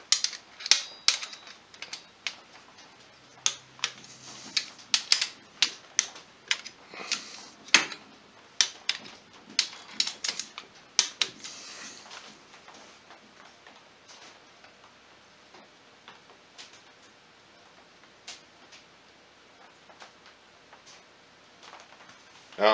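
Ratcheting torque wrench clicks in quick irregular bursts while head gasket bolts are tightened on a Polaris 500 engine, close and crisp for about twelve seconds, then trailing off into quieter scattered ticks.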